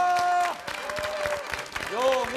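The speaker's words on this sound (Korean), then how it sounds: "박수!" A television variety-show studio audience claps for Olympic archers, a brief burst of applause mixed with voices and tonal sounds.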